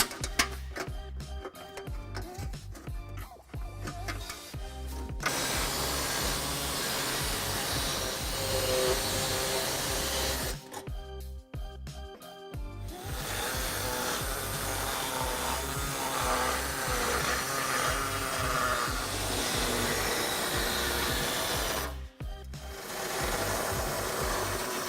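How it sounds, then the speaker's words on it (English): An air saw cuts trailer hitch material for a 2018 Kia Optima, a loud sustained buzzing rasp in long runs broken by brief pauses near five, eleven and twenty-two seconds. "we can now remove the material cutting with either an air saw, as I have here"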